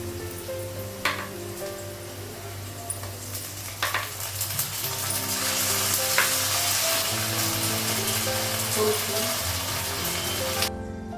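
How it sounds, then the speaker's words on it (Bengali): Fried onion with ginger paste, salt and raw oil frying in a pan for an egg and potato curry, a steady sizzle swelling louder midway with occasional utensil scrapes and clinks, close, with a low hum beneath and no talk. "পেঁয়াজটা ভাজা হয়ে গেছে, আদা বাটা লাগাবো।"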